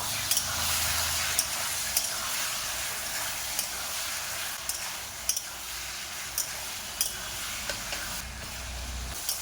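Cucumber, potato and shrimp curry with kasuri methi frying in a pan while being stirred, a steady bright sizzle with occasional ticks and scrapes of the spoon, close and continuous.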